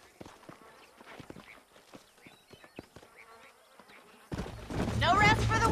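Horse hooves clop in a loose, uneven rhythm at moderate distance for several seconds in the video game Red Dead Redemption, then a loud burst of voice and noise takes over at the end.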